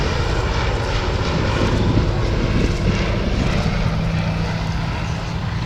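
Fairey Swordfish Mk1 biplane flying at the Duxford Battle of Britain Airshow 2024, its propeller engine a loud, steady, continuous drone throughout with no talk.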